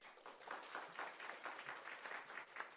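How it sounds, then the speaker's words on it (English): An audience applauds finalists at an AI for Social Good event marking Dr. B. R. Ambedkar's birth anniversary, a steady patter of many hands clapping, fairly faint and distant, with no voices over it. "a huge round of applause for our finalists"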